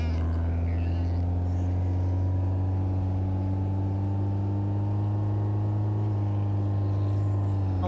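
A car engine in a farming video game drones with a steady, loud hum, holding an even pitch with a slight slow rise, alone without talk.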